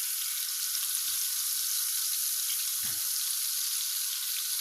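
Lamb tail fat sizzling and melting in a pan, a steady soft frying hiss running throughout, with one brief low clunk near the end and no voices.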